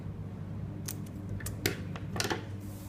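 Scissors trim fabric for a dhoti salwar, giving a few close, crisp snips in quick succession over a low background hum.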